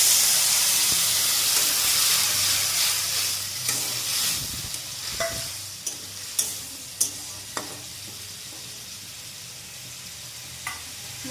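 Water is poured into a pan of spice masala frying with chilli powder for a sting fish curry, giving a steady close sizzle and hiss with stirring scrapes and a few sharp clinks.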